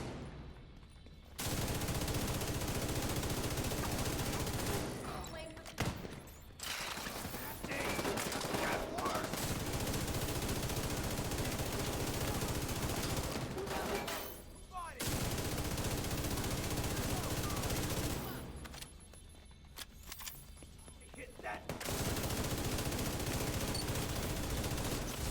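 Sustained bursts of automatic gunfire fill a shooter video game firefight played on Xbox, loud and nearly continuous with a few brief lulls, while players talk over it.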